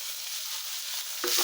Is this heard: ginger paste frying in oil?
yes